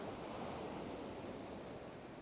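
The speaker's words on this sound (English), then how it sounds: "you can see the waves coming in" Ocean waves roll in on the shore in a steady, broad wash of surf with some wind noise, continuous and fairly soft, with no voices.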